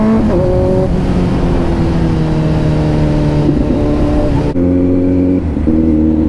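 A Kawasaki Z900 superbike rides along a road. Its engine drones loud and steady with shifting pitch, and a sharp drop near the end sounds like a gear change. Nobody speaks.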